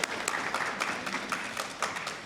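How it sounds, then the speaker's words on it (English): An audience at a school district event in Santa Barbara applauds, a soft, fairly distant patter of many hands with irregular louder claps, quiet throughout and without speech. "A round of applause for all of our sponsors."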